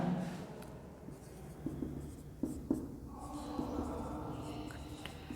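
Chalk or marker scratching across a classroom board as a number is written, a few short, close strokes over a quiet room hum with no talk.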